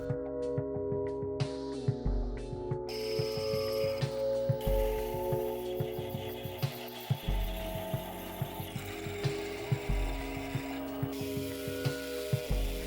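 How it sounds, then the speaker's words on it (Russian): Cutting a thread in a stainless steel lighter part on a lathe, steady mechanical whirring with a regular clicking, ratchet-like rhythm running throughout. "Здесь также нарезаем резьбу для надежного соединения."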